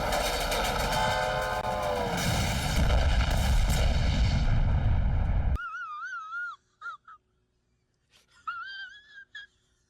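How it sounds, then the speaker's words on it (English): Train rolling over a bridge: a loud, dense rumble with screeching, wheezing highs for over five seconds, cut off abruptly, followed by fainter wavering whistle-like tones in short bursts. "as Zhang Zuolin's train passed over the bridge"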